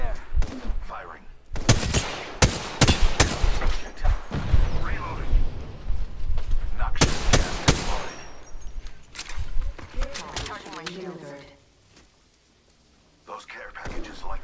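Apex Legends gunfire fires in sharp loud volleys, clustered bursts of shots around the start and again midway, with in-game voice lines and ambient noise in between and a brief quiet gap near the end.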